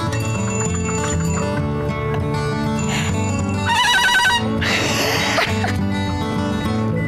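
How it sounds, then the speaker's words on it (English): Old-fashioned telephone with no dial, rung by hand to reach an operator, in Floral City, Florida: bright metallic bell rings in bursts, loud and close, over a steady background hum. "Is that the phone?"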